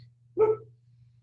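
A neighbor's hound dog behind a fence gives a single short bark, outdoors and at moderate distance, over a steady low hum, with no talking.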